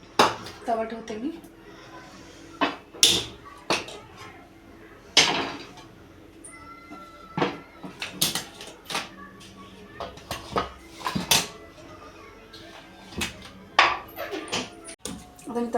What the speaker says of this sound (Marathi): तवा ठेवते मी.